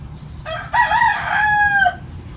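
A crossbreed black rooster crows once, loud and close, a full drawn-out cock-a-doodle-doo over faint farmyard background noise.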